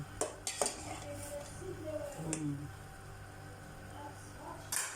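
Metal utensil stirring noodles with bottle gourd in a cooking pot, a few sharp clinks and scrapes against the pot rim at the start and near the end, with soft bubbling and faint voices in between.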